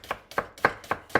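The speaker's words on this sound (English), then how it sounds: "I'm just gonna slice it along the cut end" Knife slicing through an onion on a cutting board, five crisp evenly spaced cuts in quick rhythm, close and clear with nothing else heard.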